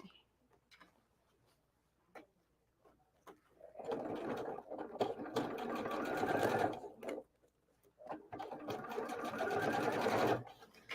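A sewing machine stitching the seams of a Melody top, running in two sustained whirring bursts with rapid mechanical ticking, broken by quiet pauses of scattered clicks and handling noise.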